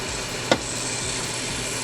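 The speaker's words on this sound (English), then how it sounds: "This is kind of like stir frying your veggies, so you want to make sure you get the oil flowing." Onions and vegetables stir-frying in oil, being moved around in the pan: a steady, close sizzle and hiss, with a couple of quick scraping clicks from stirring and no talk.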